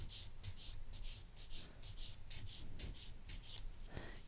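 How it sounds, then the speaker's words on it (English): A clean finish buffing file rubs across an acrylic nail in a quick series of soft, rhythmic strokes, close up and fairly quiet, with no talking. "I'm going to buff the nail with my clean finish buffing file."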